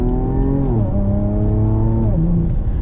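A 2015 Porsche Macan Turbo in Sport Plus mode accelerates hard, its engine note climbing through the gears with a shift partway through, loud and close with no talking.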